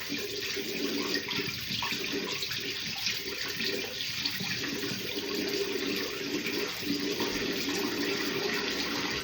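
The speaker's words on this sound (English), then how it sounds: "Going to run the water, try to get it nice and hot." Hot tap water runs steadily into a sink bowl for shaving, a continuous close hiss and splash with no pauses.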